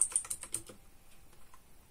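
A computer keyboard clicks out a command in a quick, quiet run of keystrokes that thins into a few sparse taps, close and alone.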